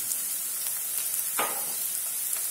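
Fresh ginger-garlic paste sizzles in hot oil with green chillies in a pan while pav bhaji is cooked, a steady close hiss with a brief louder crackle midway and no talk.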